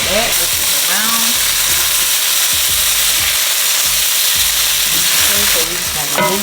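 Chicken pieces frying for lo mein in a hot pan, a loud dense sizzle filling the whole stretch with occasional utensil scrapes and short shifts in tone, close and unbroken, no voices over it.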